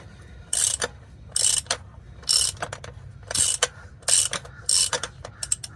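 Ratchet clicking while unscrewing a part during an oil change on a 2011-2016 Toyota Sienna, six short bursts of rapid pawl clicks in a steady back-and-forth rhythm, close and clear with no talking.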